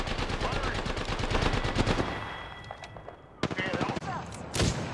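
Rapid automatic gunfire in Apex Legends on PS4 Pro, likely an Alternator, rattling in dense bursts through the first half, then sharper isolated shots near the end, with a voice speaking briefly over it.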